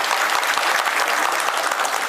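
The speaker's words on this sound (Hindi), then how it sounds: "स्वास्थ्य मंत्री के लिए एक बार जोरदार ताली बजाएं।" Audience at a Bharat Jodo mushaira applauding for the health minister, a dense, steady burst of clapping from a large crowd throughout.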